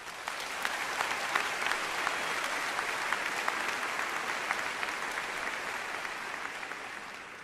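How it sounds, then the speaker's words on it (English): Graduating class and families at a high school commencement ceremony give a long, even round of applause, dense clapping filling the whole stretch with no speech over it. "please join me in a round of applause for their efforts."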